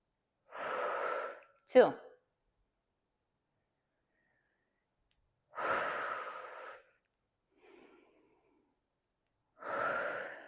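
Heavy breathing during a dumbbell leg workout, with three strong exhale bursts spaced a few seconds apart, one sharp gasping inhale and a faint puff between them, all close to the mic and with a brief count spoken.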